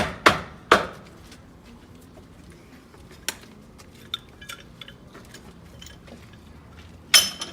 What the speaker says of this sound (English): He's going to tap the fittings that are going to be disturbed